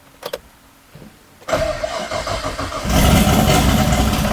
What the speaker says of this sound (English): Open down pipe, you know, so we sounded like real race car.